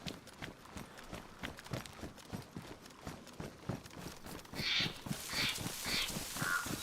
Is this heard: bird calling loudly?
yes